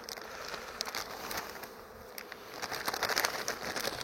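A dense, steady buzzing of many bees swarms close to the listener at a beehive entrance, rising slightly louder toward the end.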